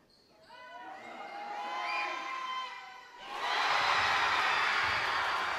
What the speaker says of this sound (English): You can hear the Antelope crowd first making the noise, trying to distract him, and then the Bella Vista crowd with their approval when he makes it